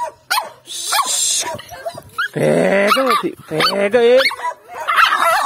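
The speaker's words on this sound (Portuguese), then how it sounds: "É o treinamento pra ele soltar o latido." A guard dog barks loudly and excitedly during a training session, harsh repeated barks mixed with growls, close by, while a man urges it on in Portuguese.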